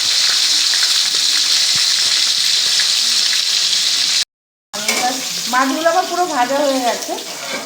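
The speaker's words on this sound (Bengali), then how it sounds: "মাছগুলো এরকম করে আমরা সুন্দর করে উল্টে উল্টে সবগুলো মাছ এইভাবে ভেজে নেব" Strong, steady sizzling of fish frying in hot oil, cut off abruptly; after a short silence a person talks.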